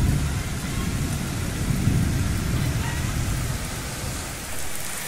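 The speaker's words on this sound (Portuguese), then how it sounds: "Ó, Valdir, nem começou a chuva." Heavy rain pours steadily on the southern coast of São Sebastião, Brazil, a dense hiss with a low rumble underneath that could be distant thunder or passing traffic, continuous and close throughout.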